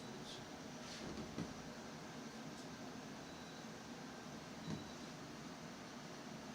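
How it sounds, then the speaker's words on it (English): Faint, steady hum of an air conditioner running in a room, a low continuous drone with a couple of small knocks and no talk. "I got to turn off the air conditioner because I can't hear him."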